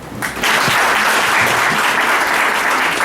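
Audience at an annual general meeting bursts into loud, sustained applause, many hands clapping steadily close by with no voices over it.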